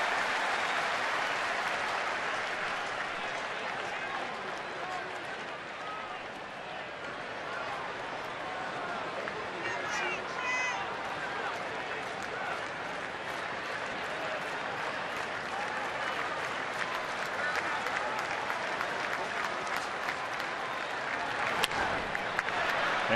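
A baseball crowd in Philadelphia applauds the Phillies pitcher's at-bat, a broad steady roar of clapping and cheering from a large stadium audience that runs throughout, with faint commentary beneath.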